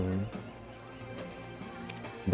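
Horse hooves clip-clop over a busy soundscape in the video game Black Desert, with a short whinny near the end; moderately loud, no talking.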